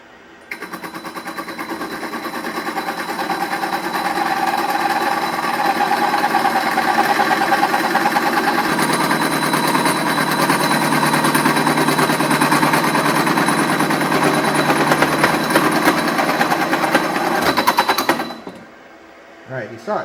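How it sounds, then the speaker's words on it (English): A milling machine chatters as it cuts a bicycle seat stay, giving a loud, harsh, continuous rattling grind that holds for about eighteen seconds before cutting off abruptly. "I had too much out and it was chattering"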